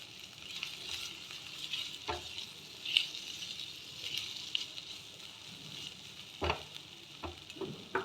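Prawns and crushed garlic frying in butter in a pan, a soft continuous sizzle with occasional stirring scrapes and clinks, close up and without speech.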